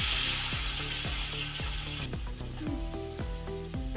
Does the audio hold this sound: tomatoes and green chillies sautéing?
yes